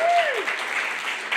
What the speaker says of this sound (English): Round of applause if you are getting older.